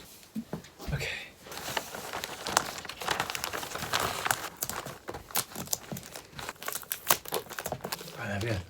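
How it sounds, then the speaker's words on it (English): Wrapping paper crinkles and rustles in irregular bursts while a book is wrapped as a birthday gift. There are close, sharp crackles and handling noises, with a few quiet sounds between them. "I'm actually, funny enough, wrapping up a book."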